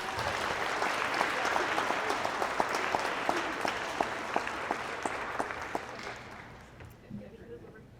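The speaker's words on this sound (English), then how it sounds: "let's give them another round of applause, please." Attendees at a 2022 college awards and recognition ceremony give a round of applause, a full burst of many hands with distinct sharp claps that gradually thins and fades toward the end, leaving faint stray sounds.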